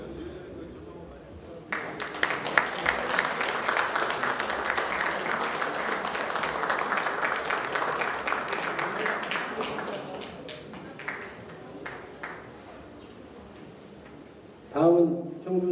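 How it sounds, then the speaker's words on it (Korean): An audience at a Rotary club founding ceremony in Cheongju bursts into loud, sustained clapping that thins out and fades after about ten seconds, followed by a brief voice over a microphone. "다시 한번 큰 박수로 부탁드리겠습니다."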